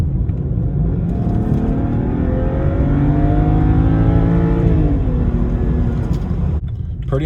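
A BMW 335i N54 with an automatic gearbox accelerates hard in a pull, a loud steady engine drone rising in pitch over several seconds, heard from inside the car without talk.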